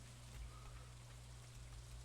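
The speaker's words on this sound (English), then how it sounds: "It's raining, it's pouring." Steady, soft rain hiss in Stardew Valley runs throughout with a low constant hum underneath, faint and even, with no voices.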